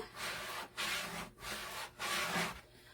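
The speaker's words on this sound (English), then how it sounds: "use my scraper to put that transfer tape on nice and smooth" A scraper is burnished over vinyl transfer tape, making a quiet, close rubbing rasp in four back-and-forth strokes with brief gaps between them.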